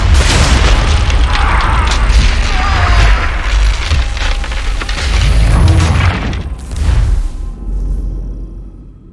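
A ship's cannon fires chain shot, giving a heavy booming blast followed by rolling rumble and crashing debris, then a couple of softer thuds as the noise fades toward the end.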